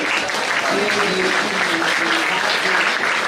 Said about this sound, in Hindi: एक जोरदार तालियां बजाएं एवरीवन